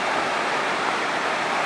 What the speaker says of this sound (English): Hunter Creek goes through a little narrow gorge